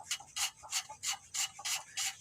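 Rhythmic rasping strokes of a metal motorcycle part being scraped by hand, about seven even passes in quick succession, close up with no talking.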